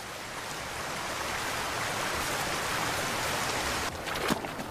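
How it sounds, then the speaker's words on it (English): Heavy autumn rain falls in the Great Bear Rainforest, a steady, dense hiss of downpour close around, with a brief louder patter of drops near the end. "But now the autumn rains have really picked up."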